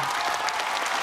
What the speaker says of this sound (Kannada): ಎಲ್ಲರೂ ಚಪ್ಪಾಳೆಗಳು ಮಾಡಿಬೇಕು ಫಸ್ಟ್.